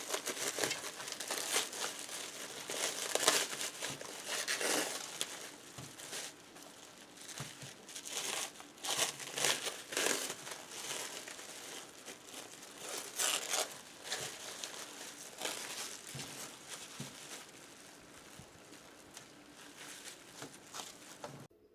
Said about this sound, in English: I got the plastic off of them.